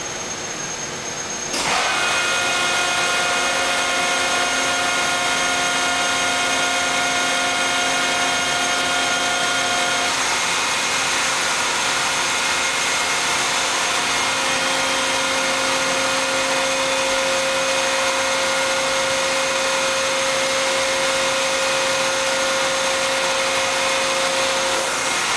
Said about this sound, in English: We're going to run it through a 10-second cure here to show one cycle